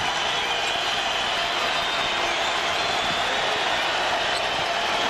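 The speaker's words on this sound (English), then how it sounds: "You can hear them as they stand and they applaud this KU team" Kansas Jayhawk basketball fans stand and applaud at the 1999 Big 12 tournament championship against Oklahoma State, a dense, steady roar of crowd noise and clapping filling the arena.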